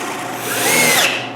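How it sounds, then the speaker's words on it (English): A Forstner bit boring into maple to clear the bulk of the wood for a candy bowl, giving a short, steady, loud whirring drill drone that swells slightly midway, with no talk. "with a Forstner bit, I remove the bulk of the wood."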